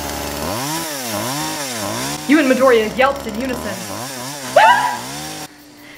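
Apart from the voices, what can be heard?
revving chainsaw sound effect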